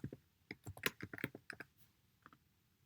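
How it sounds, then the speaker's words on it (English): Quick, light clicks of typing on a computer keyboard in short bursts, faint and close, with no voices. "you're gonna type in up here in the top right-hand corner"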